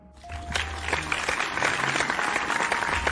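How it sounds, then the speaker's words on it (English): A crowd claps steadily for about three seconds after a student is named top of the class for exam results, the applause rising and then holding at a moderate level. "A round of applause for Rosie."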